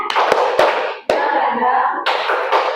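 A group performs the 'tepuk semangat' clapping chant, voices chanting rhythmic syllables together, broken by a few sharp, loud claps in unison.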